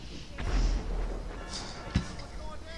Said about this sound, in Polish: Coś tam wybucha.